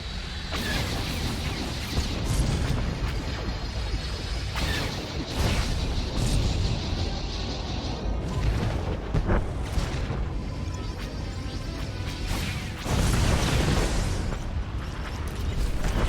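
Proton torpedoes strike a Republic capital ship in SWTOR space combat: deep rumbling booms and crashing impacts roll over a loud mechanical engine drone, with creaks and surges recurring across the stretch.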